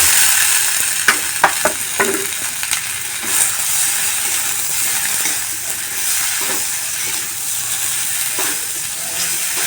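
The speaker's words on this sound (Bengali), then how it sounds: "আলুটাকে দিয়ে বেশিক্ষণ নাড়াতে হবে না, হালকা একটু ফ্রাই করে নিয়েই হয়ে যাবে আলুর পুর তৈরি" Potato filling for singara sizzles and fries in a pan, a steady hiss running throughout with a few sharp clicks of stirring near the start, close and fairly loud, no talk.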